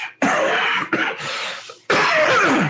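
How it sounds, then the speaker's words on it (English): A person with a cold coughs three times in a row, each cough loud, close and harsh, with short gaps between them. "I still have a little bit of a cough."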